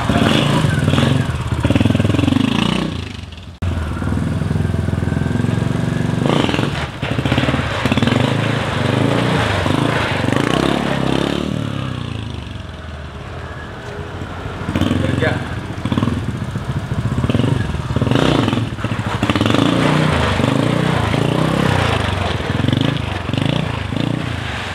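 A racing motorcycle engine revs and idles at close range, with several surges and dips in roughness, while people talk over it.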